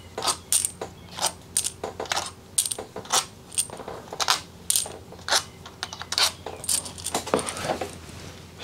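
Long valve body bolts from a Ford AOD transmission drop onto a metal pile one after another, giving sharp, close, irregular clinks and jingles for several seconds with a faint steady hum underneath.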